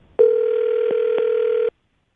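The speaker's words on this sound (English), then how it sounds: "I'll dial their phone number right now" A telephone line sounds one steady, loud electronic tone for about a second and a half, with two faint clicks partway through, as a radio morning show places a call; no talking over it.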